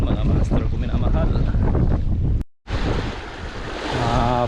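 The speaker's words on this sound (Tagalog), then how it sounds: "Napakaganda at napakatahimik na dagat." Sea waves wash and surge in a loud, steady roar near a cave-like shore, briefly cut off by a short gap before the broadband rush resumes, with no voices over it.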